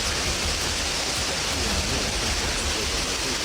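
Steady, dense rain pours without a break during a storm over a near-deserted city road in Germany, a broad continuous hiss of drops on surfaces with no voices.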